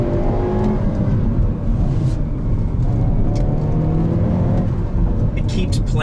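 A 2021 Hyundai Veloster N with a DCT gearbox, front-wheel drive, driven hard on a twisty road with tires spinning: a steady, loud engine drone with rising revs and road roar, heard from inside the cabin.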